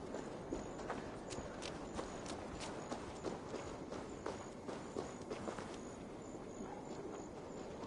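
Horse hooves clip-clopping in Assassin's Creed Valhalla, a steady run of close, moderately loud hoofbeats at a quick walking pace over a constant background bed, with no talk.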